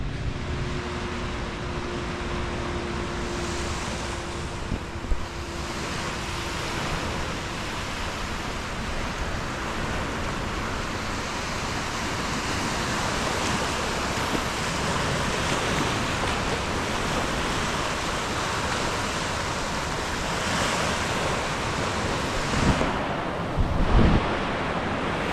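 Ocean waves wash steadily onto a Gulf Coast beach on a chilly December day, a broad continuous surf rush with light wind noise and no speech.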